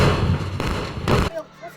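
Sticky bombs explode one after another against a door in a 3D bike video game, heavy close booming blasts in quick succession that cut off abruptly into quieter game ambience.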